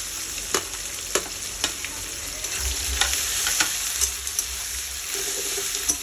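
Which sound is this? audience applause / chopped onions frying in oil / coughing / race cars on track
chopped onions frying in oil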